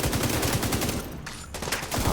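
Rapid automatic gunfire rattles in a video game firefight with a Pestilence PvE build. Loud, fast repeating shots come in a steady stream, break off for a moment midway, then resume.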